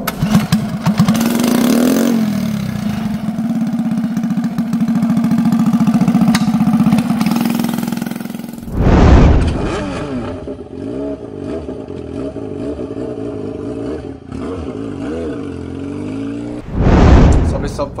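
A Walk 100cc motorcycle with its original exhaust starts up and runs with a loud, close buzzing engine note, rising sharply in two revs, while someone talks over it.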